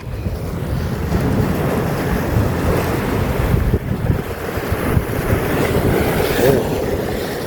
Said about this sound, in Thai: คลื่นแรงเอาเรื่องอยู่หะ